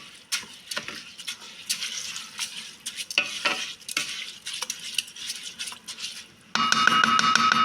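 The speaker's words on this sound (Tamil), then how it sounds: "இதை நீங்கள் நல்லா மிக்ஸ் பண்ணிடுங்க." A spoon stirs and scrapes a rice mixture in a pan for yellow rice, with steady close scraping and clinks; near the end a louder, denser sizzling wash takes over.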